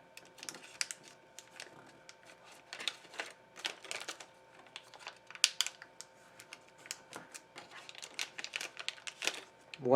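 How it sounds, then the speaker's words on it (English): Origami paper is folded toward the center for a spinning toy, with close crisp crinkles, taps and creasing rustles coming in quick irregular bursts. "One more time, I'm folding it to the center again."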